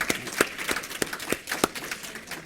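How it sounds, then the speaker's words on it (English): An audience in a hall applauds a panel at a lunch-and-learn event on women's right to vote. Steady, moderately loud clapping comes from many hands with distinct sharp claps standing out near the front. "please join me in one more round of applause for our panel today"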